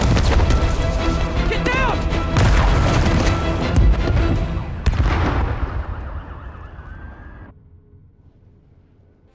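A suicide bombing in a Spider-Man video game lets loose a dense, roaring blast layered with crashing debris and wailing alarms, then the din thins out and fades to near silence.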